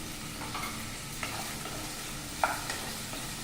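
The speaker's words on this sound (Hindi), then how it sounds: "आलू हल्का हल्का फ्राई हो गया, इसमें हल्का सा नमक ऐड कर देते हैं। इसमें साबुत जीरा ऐड कर रहे हैं।" Lightly fried potatoes cook in oil as salt and whole cumin go in, giving a soft continuous sizzle broken by stirring scrapes and one sharp clink of a utensil midway.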